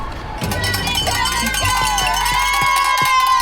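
Crowds cheering runners along 42nd Street at the 2025 NYC Half Marathon, a loud continuous wash of shouts, whistles and cowbell clanks heard from among the passing runners.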